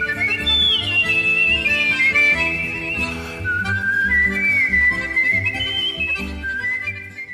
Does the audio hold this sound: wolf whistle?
yes